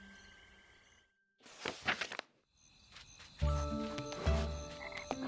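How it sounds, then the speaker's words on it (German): Frogs croaking in a night swamp in a video game, a burst of raspy croaks after a brief silence, then layered tonal chirps and calls building louder, near and busy. "Hört euch diese singenden Frösche an."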